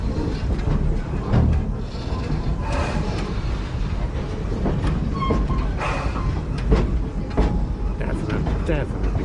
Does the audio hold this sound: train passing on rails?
yes